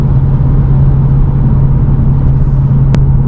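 A 2024 seventh-generation Ford Mustang GT drones steadily as it rolls back into the throttle, a loud, close engine hum that holds a constant low pitch for a few seconds with one brief click near the end.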